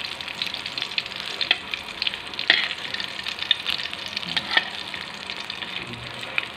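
Smoked fish (tinapa) frying in oil in a pan, a steady close crackling sizzle with frequent small pops and occasional stirring scrapes, moderate in volume and uninterrupted by speech.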